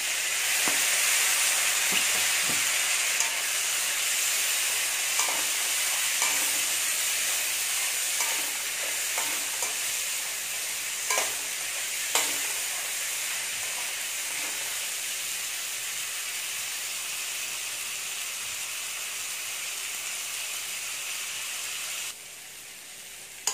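Chopped tomatoes sautéing in hot oil in a pan for a Tamil-style crab curry, a steady close sizzle with occasional stirring clicks and scrapes, no talking.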